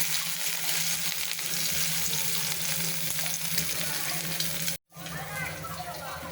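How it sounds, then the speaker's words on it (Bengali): An egg frying in a pan sizzles loudly and steadily up close, with a low hum underneath and a brief dropout near the end before the crackle resumes. "আমি অলরেডি ডিম ভেজে ফেললাম।"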